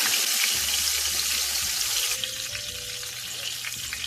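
Chicken fried steak sizzles loudly in a skillet, a dense, steady frying hiss that carries through the whole clip and eases slightly partway through.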